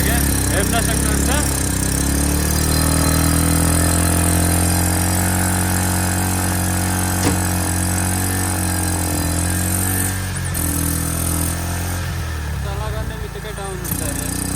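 A TVS Duramax Plus BS6 auto rickshaw engine with a starting problem runs steadily near and loud, its pitch dipping and rising as it revs, with talk over it.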